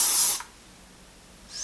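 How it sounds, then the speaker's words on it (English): An aerosol can of hairspray gives two short hisses close by, one loud burst and a fainter one after a pause, while a low ponytail is styled, with no talking. "another round of hairspray."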